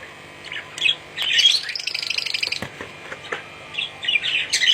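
King pigeons in a loft give sharp chirps and squeaky calls in short clustered bursts, close and fairly loud, with a brief rustle partway through.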